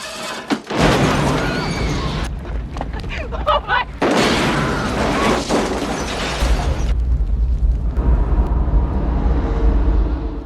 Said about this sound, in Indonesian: Saat Thomas menstarter mobilnya, suara mobilnya aneh dan tiba-tiba mobil Thomas meledak